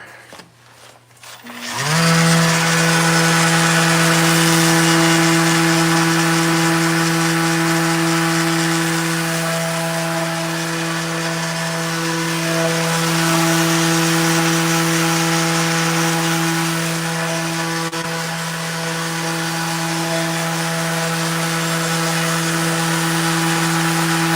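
A power sander works on the lower part of a kitchen base cabinet. Its steady, whining motor starts abruptly and runs loud and close without a break for over twenty seconds.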